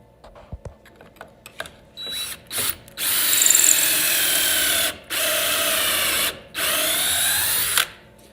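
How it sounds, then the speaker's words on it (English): A power drill whirs up in several bursts of a few seconds each, drilling holes in wood, separated by short pauses, after some light clicks and handling noises. "So that's just a matter of drilling some holes."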